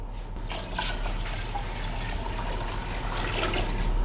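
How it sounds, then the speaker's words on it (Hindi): Yakhni stock pours into a pot of rice and mung beans over a high flame, a steady close trickle and splash of liquid lasting several seconds with no talk. "साथ ही हम इसमें डालेंगे यखनी"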